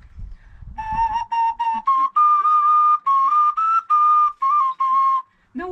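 A clay ocarina whistle plays a run of sustained, breathy, velvety notes, some short and some held, mid-pitched and close, with a soft rustle before it starts.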